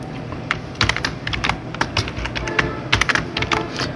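Close, rapid keystrokes on a computer keyboard as text goes into an MS Word text box, irregular bursts of crisp clicks with short pauses between words.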